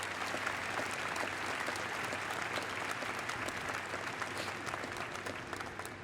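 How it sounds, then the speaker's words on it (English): A crowd applauds at the christening ceremony for the submarine Delaware (SSN 791), a steady, even wash of many hands clapping heard from a distance, fairly faint throughout. "Give them a great round of applause."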